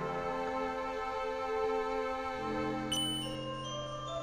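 Bell blossom in Undertale rings out with sustained, layered tinkling chime tones, followed near the end by a brighter, higher ding, clear and alone.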